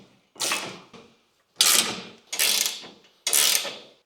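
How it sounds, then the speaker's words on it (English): Canopy bolts on a Ventrac 4520N tractor being tightened by hand, four separate bursts of close ratcheting and scraping, each lasting about half a second with brief gaps between them. "tighten everything up by hand first"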